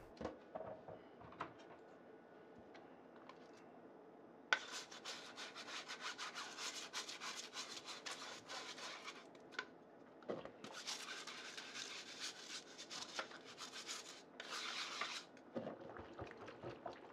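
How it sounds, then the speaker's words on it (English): A scrubber brush rubs against the clogged mesh filter basket of a Breville Juice Fountain Cold juicer, a steady close scratchy scouring in long bursts with short pauses between strokes. "Breville recommends using lemon juice to help break up the clogged pores, and then use their included scrubber brush"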